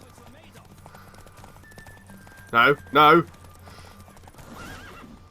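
A horse in a race in the video game Witcher 3 lets out two loud, sharp neighs back to back over soft hoofbeats, with someone talking briefly before and after.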